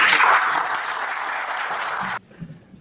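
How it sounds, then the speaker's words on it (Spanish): Loud, dense applause from an audience at a religious freedom summit in Santander, Colombia, sustained for about two seconds before cutting off abruptly into near silence. "Recibámoslo con un fuerte aplauso."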